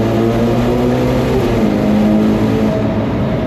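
A Ferrari Purosangue V12 drones loud and steady on a downshift, its low engine note holding close and continuous with a slight pitch drop partway through.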